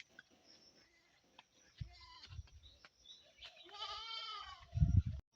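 Goats bleat nearby, a wavering cry in the middle and a lower bleat at the end, with soft shuffling and small knocks between calls.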